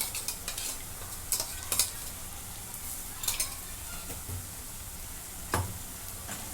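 Ginger, garlic and coriander paste fries with onions in a pan for a dried green pea dish, a soft steady sizzle punctuated by irregular scraping stirs of a spatula.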